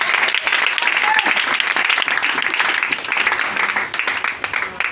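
A congregation applauds and cheers during a church service, a dense, steady wash of clapping filling the room for the whole stretch, with voices mixed into the crowd noise.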